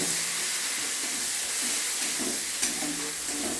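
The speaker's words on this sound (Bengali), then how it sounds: "পেঁয়াজ দিয়ে ভালো করে লাল লাল করে ভেজে নেব" Chopped onions frying in oil in a pan with whole cumin, a steady close hiss and sizzle with faint stirring scrapes throughout.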